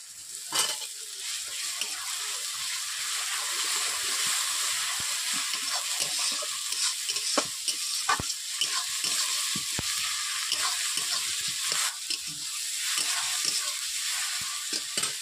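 Onions that have turned red sizzle in a pan as ginger-garlic paste goes in, a steady frying hiss broken by scattered clicks and scrapes of stirring, with no talking.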